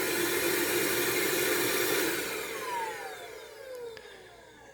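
Hoover Linx cordless stick vacuum on its suction-only setting, a loud steady whooshing whine close up that fades as the motor winds down with a falling pitch, no talk.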